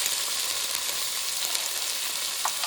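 Chili paste with ginger-garlic and cumin pastes sizzling steadily in a pan while being stirred, a continuous close frying hiss with no talk, for a jackfruit and prawn curry.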